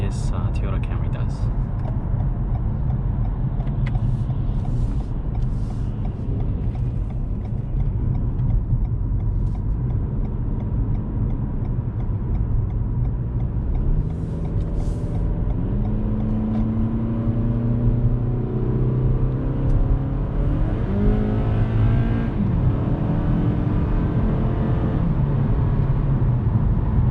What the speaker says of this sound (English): Let's go ahead and take it on the highway and see how this Toyota Camry does.